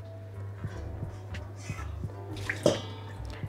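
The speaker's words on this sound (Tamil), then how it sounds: "ஒரு 5 நிமிஷம் விட்டோன்னே இந்த தண்ணி ஒட்ட வடிஞ்சிடும்." Washed urad dal left to drain, water dripping off it in a quiet, irregular series of small drips and trickles with a slightly louder splash near the end.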